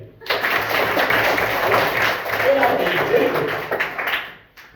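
Children in a primary school classroom burst into brief, close group applause that lasts several seconds, with scattered voices mixed in before it fades out.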